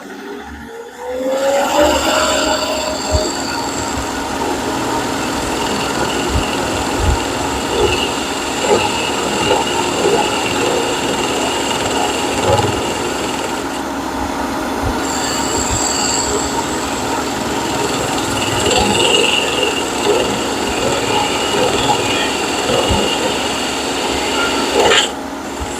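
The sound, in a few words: sanding a wooden ice cream scoop handle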